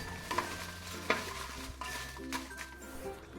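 Chillies frying in coconut oil on a low flame, a soft steady sizzle with occasional light stirring clinks and scrapes of a utensil against the pan, quiet and close.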